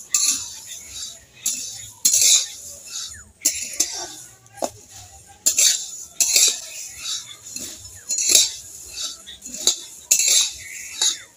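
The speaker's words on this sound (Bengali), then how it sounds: "মুড়িটা আমি মচমচে করে ভেজে নেব।" Puffed rice being dry-roasted until crisp in a pan, with a metal spatula scraping and clinking against it in repeated bursts, close and clear with no talking.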